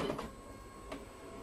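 An Evolis Primacy card printer feeding in a card and beginning to print, giving a quiet mechanical whir with a couple of faint clicks.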